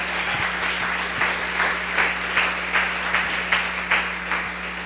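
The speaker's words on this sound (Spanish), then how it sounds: "Dale un fuerte aplauso al Rey de Gloria." Church congregation applause during a sermon, a steady, fairly loud wash of many hands clapping with a faint hum underneath.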